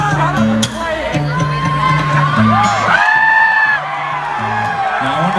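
Crowd at a concert in Pearl Harbor, Hawaii, cheering and whooping over loud music, with voices rising and swelling in the middle before the band's steady tones resume.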